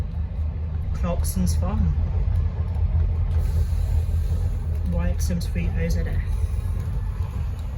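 A 2012 Scania N230UD double-decker bus with ADL Enviro400 body, in Stagecoach Oxfordshire service, heard from inside while driving: a steady, loud low engine rumble runs throughout beneath people talking.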